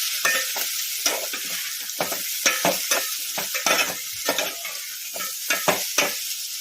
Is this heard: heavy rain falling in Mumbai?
no